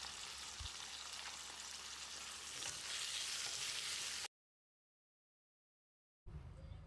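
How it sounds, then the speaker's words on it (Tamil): Chopped tomatoes sauté in a pan with turmeric and salt, giving a steady close sizzle and crackle for about four seconds. A sudden silence follows, then the frying resumes briefly. "இதில் 1/2 டீஸ்பூன் மஞ்சள் தூள், 2 டீஸ்பூன் உப்பையும் சேர்த்து 1 நிமிஷம் வதக்கி விட்டுடலாம்."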